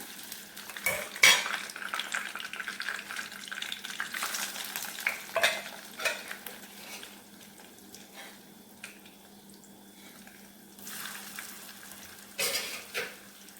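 Murukku snacks frying in a pan of hot oil, a soft continuous sizzle broken by repeated clinks and scrapes of a metal utensil against the pan, fairly close and quiet, with no talking.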